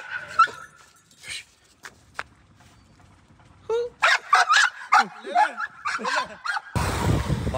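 A husky barks and whimpers in uneven bursts, with yips and whines close to the microphone, and people talk around it before a burst of noise at the end.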